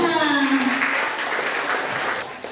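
A village community deliberation meeting run by midwifery diploma students breaks into a burst of applause that fades out. A voice trails off at the very start.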